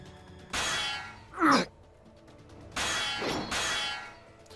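Swords clash in the Hakuoki video game: a whooshing swing, a sharp metallic clang, then two more swift swooshing blows, close and loud with no talk.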